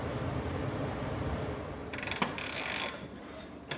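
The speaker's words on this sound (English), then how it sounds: "you can actually use the wrench to pull back on the ratchet in the back" A wrench ratchets on a rear lower control arm bolt of a Jeep WJ, a close, quick clicking burst of pawl ticks in the second half over a low background hum.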